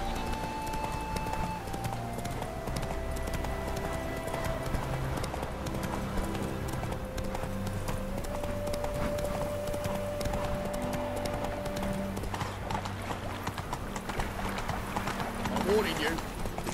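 Horse hooves clip-clop in a steady galloping rhythm in The Witcher 3: Wild Hunt, close and continuous, with game music and voices layered over the hoofbeats.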